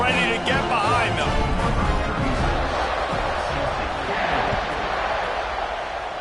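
A stadium crowd roars at kickoff in the college football video game NCAA 26, a broad steady wash of cheering under brief commentary-like voices, loud and continuous.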